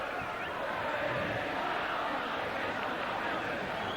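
A crowd cheers at a 1989 schoolboy rugby union match between St Gregory's College Campbelltown and Holy Cross Ryde after a Holy Cross try, with a dense, steady roar of distant voices throughout.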